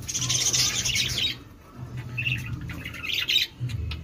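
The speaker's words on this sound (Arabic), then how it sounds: "وابتدي اجيب العصفور، هجيب العصفور امسك كده عصفور عصفور." A small caged bird chirping and squawking in short bursts, close and fairly loud, over a steady low hum.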